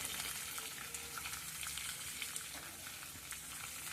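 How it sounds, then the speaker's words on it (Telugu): Chopped onions frying with curry leaves in a pan for a Kerala-style black-eyed pea curry, giving a steady, dense crackling sizzle throughout with no talk. "కట్ చేసిన ఉల్లిపాయలు ఇలా వేగుతున్నాయి."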